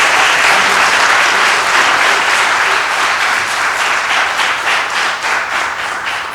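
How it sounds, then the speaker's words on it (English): Steady, loud applause from a large crowd at a city council meeting, a dense wash of clapping that holds for several seconds and tapers slightly at the end. "I'm going to have to ask you to hold your applause"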